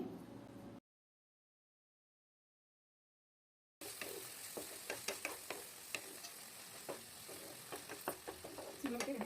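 Tomato curry with ganga-vayilu greens simmering while being stirred: a short burst of stirring, then a few seconds of silence, then steady soft crackling with scattered sharp ticks and pops nearby.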